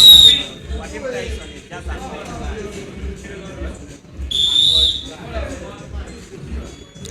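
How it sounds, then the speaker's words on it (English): Football fans at a live best-of-three final blow shrill whistles in two sharp bursts, one at the start and one midway, over background crowd babble and a voice talking. "Some of them are blowing their whistles, as you can hear in the background."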